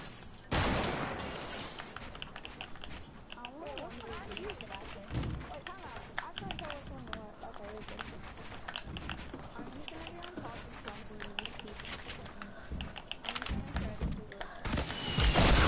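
RPG blasts and gunfire in a battle royale video game erupt in loud, scattered bursts alongside rapid shots, while players talk excitedly over the action.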